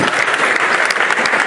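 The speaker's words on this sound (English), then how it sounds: "Can you please give a big round of applause for Prashantji, everyone?" Loud, dense applause from an audience, steady clapping filling the space throughout with no gaps.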